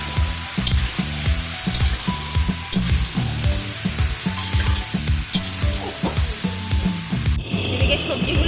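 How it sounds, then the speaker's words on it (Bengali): Potatoes and cauliflower fry in a pan as vegetables for khichuri, giving a steady sizzle up close. A pulsing, rhythmic low sound runs underneath the whole time. "আমি আলু ফুলকপি ভাজা শুরু করে দিয়েছি।"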